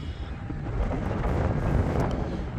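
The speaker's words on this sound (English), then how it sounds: "You can see with me trying to control it for all the wind, it's throwing it around pretty decent." Gusty wind roars and buffets against a small ready-to-fly Arrows Pioneer 620mm RC plane in flight, a dull, continuous rumble swelling and easing over a couple of seconds.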